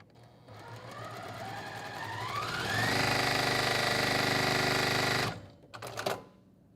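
A sewing machine stitches quilt block pieces, its motor whirring up to a fast steady run, then stopping, followed by a few brief clicks and handling sounds.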